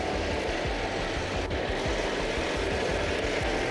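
A Volkswagen Beetle engine runs with a steady, loud, low rumble and a rhythmic air-cooled throb, close by, with no voices over it.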